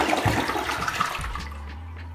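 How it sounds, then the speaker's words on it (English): A toilet flushes with a rushing surge of water that swirls and drains, then settles into a quieter refill trickle; close and alone, with no talking. "I'm gonna go ahead and give it a flush."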